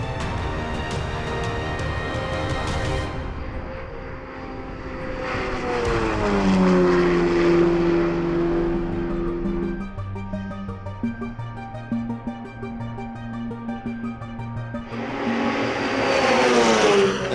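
An autonomous race car from Cavalier Autonomous Racing (University of Virginia) laps Indianapolis Motor Speedway, its engine rising and falling in pitch with loud, sustained whine and Doppler sweeps as it passes, under heavy continuous broadcast background.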